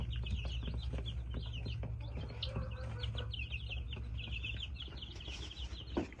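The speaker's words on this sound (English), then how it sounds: "we got some little bantams in there, pretty small" Small bantam chickens cluck and chirp steadily inside a DIY brooder, a busy chorus of soft, close calls continuing throughout without any talking.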